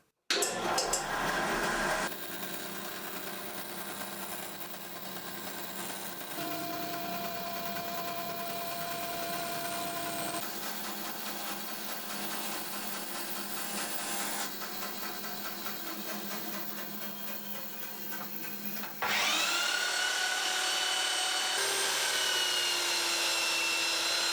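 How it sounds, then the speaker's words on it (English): A bandsaw whines continuously while cutting wooden pieces for a serving tray just outside a marked line, steady machine drone with shifting pitch as the blade works through the wood, and a louder stretch near the end. "Let's take these over to the bandsaw to cut just outside the line."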